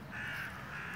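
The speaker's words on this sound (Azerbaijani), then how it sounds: "Quşlar da oxuyur." Crows caw steadily in a park in Tehran, a harsh continuous bird call holding at moderate level through the moment with no talk over it.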